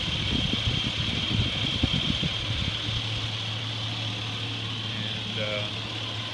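A 2003 Chevrolet Suburban engine idling steadily with its belt running, a close, even mechanical hum and whir with a faint rattle early on, while a person talks over it.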